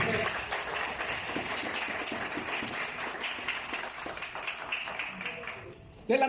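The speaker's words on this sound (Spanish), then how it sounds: "Eso merece un fuerte aplauso" Church congregation applauding during a Spanish-language sermon, a steady broad wash of clapping for about six seconds that cuts off abruptly near the end, with some murmuring mixed in.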